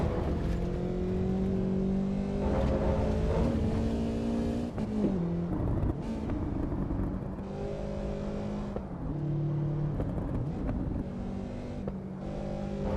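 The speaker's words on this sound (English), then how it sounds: "I'm driving into the Nordschleife in the tourist layout." A simulated car laps the Nordschleife tourist layout in the racing game Assetto Corsa Evo, played on a Moza R12 wheelbase. The engine drones loud and steady throughout, its pitch climbing and dropping through repeated gear changes, with no voices.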